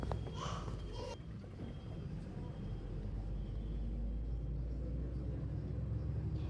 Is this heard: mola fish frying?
no